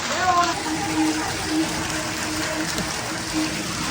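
Large hailstones pelt down in a heavy storm, a dense, continuous rushing clatter that holds steady and loud throughout.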